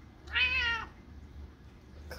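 A cat gives one clear, drawn-out meow close by, followed by quiet room background and a brief soft noise at the end.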